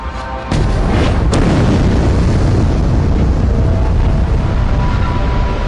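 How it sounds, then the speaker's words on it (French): An apocalyptic asteroid impact explosion as a documentary effect: a sudden massive boom after a brief quiet start, then a sustained loud roaring rumble that fills the rest of the clip. "L'explosion est apocalyptique."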